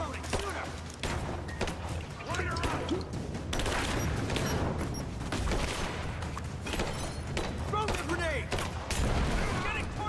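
Gunfire in the video game Rise of the Tomb Raider, a dense continuous barrage of shots and crashing impacts running the whole stretch over a steady game soundscape, with a voice talking over it.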